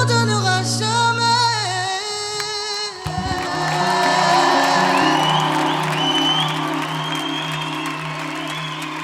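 An audience claps and cheers after a live song at a church gathering, starting as the music fades and building into steady applause with whoops from the crowd.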